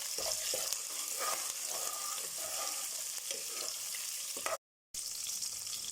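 Crushed green chilli and garlic sautéing in a pan give a steady, quiet sizzle with scattered spatula scrapes and clicks, close by, cut by a brief gap of silence, no talk.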